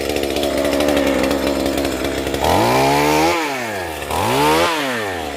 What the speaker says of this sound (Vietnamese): Bây giờ sẽ tiếp tục cưa cây sào kế bên